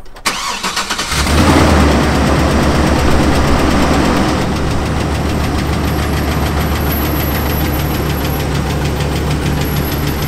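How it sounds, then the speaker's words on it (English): A van engine with a mechanical fault cranks and catches, then idles loud and close with a steady rapid ticking that stays locked to the engine speed throughout. "when you hear a ticking noise like that, that's in sync with the engine RPM"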